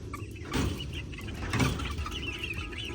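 Dorking heritage breed chickens on a farm give soft, scattered clucks over steady outdoor background noise, fairly close, with no talking.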